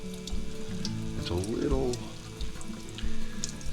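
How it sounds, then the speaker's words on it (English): Cold water runs from a kitchen tap over a cured egg yolk, a steady close splashing wash with a brief swell in the middle, while a person talks over it. "now this is cold water, and I'm just lightly running my fingers over it"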